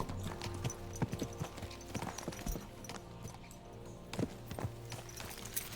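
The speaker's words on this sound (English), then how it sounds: "Let's really spur these horses on, eh?" Horses galloping in the video game Kingdom Come: Deliverance II, a rapid, fairly quiet clatter of hoofbeats with scattered louder thuds and a continuous low background, no talking.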